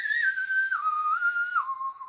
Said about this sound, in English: the iconic whistle